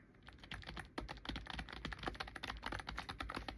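Close, rapid typing on a large keyboard, a stream of crisp clicking keystrokes with uneven rhythm, fairly quiet overall and without any voices.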